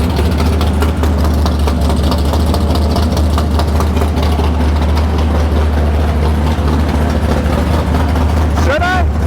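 A 1962 Plymouth Savoy with a 440 engine idles very loudly and close up, a deep, steady rumble that fills the whole stretch, with a brief voice near the end.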